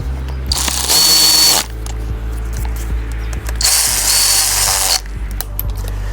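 A power tool snugging bolts on a Ford 302 small block engine, two loud, sustained bursts of whirring with quieter mechanical clicks and handling between them.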